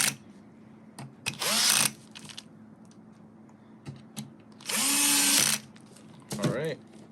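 A power drill runs screws tight in short bursts during a CarPlay install in a 2015–2017 Infiniti Q50, with three whirring runs of a second or so, separated by quiet pauses and small clicks.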